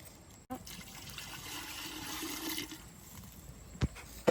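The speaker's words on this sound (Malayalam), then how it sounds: "കുറച്ച് വെള്ളം ഒഴിച്ചു കൊടുക്കാം" Water poured into a cooking pot for boiling in a farmhouse kitchen, a steady rushing pour of a few seconds, close and moderately loud, with a couple of brief knocks near the end and no talk.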